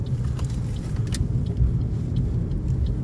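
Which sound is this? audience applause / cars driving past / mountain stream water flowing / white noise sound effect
cars driving past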